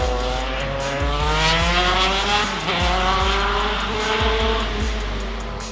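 A tuned drift car accelerates hard on a race track, its engine climbing loud and close through repeated gear changes with a steady, aggressive roar and no talking.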